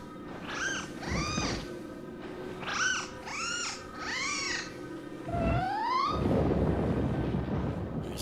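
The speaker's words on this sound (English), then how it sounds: "The cat, despite being clearly clinically anxious, is going to run straight into it." Anxious cat meowing in a video game: a run of repeated, wavering meows in two bursts, then a longer rising cry that trails into rough noisy sound, fairly close and clear with no talking.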